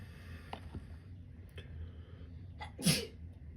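A single sharp sneeze bursts out near the end after a few quiet breaths and faint rustles, close and loud against an otherwise hushed room.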